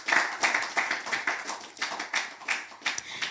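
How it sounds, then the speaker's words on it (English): A conference audience at a family wealth event applauds a speaker, with scattered, uneven clapping that comes in loose bursts, moderately close, with no voices over it. "Please, a round of applause for her."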